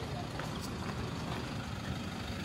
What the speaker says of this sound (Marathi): सो गाडी आली आता घ्यायला